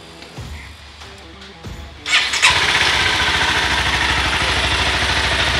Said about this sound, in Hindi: बाइक को ऑन करेंगे।